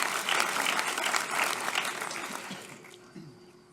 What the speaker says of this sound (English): how about, again, a round of applause for our girls lacrosse team?